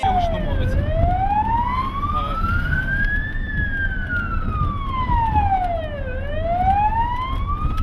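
An ambulance siren wails in slow rising and falling sweeps on a road in Ukraine, loud and continuous over a low traffic rumble, with no one talking.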